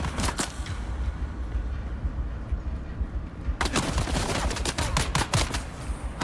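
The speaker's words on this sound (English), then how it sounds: "Stop shooting me!" Video game gunfire in Dune Awakening crackles in rapid bursts of sharp shots, loud and close, with a short lull before a dense volley resumes.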